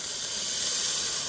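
Water goes into a hot pan of eggplant and potatoes, producing a brief, steady, fairly loud steamy hiss with no voices over it.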